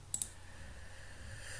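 Two quick mouse clicks sound close together while opening the File menu in MS Project 2016, sharp and brief, followed by quiet room hum.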